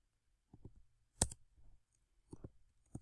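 Computer keyboard and mouse in use: a few scattered, close, quiet clicks and key taps in short bursts with silence between, no talking.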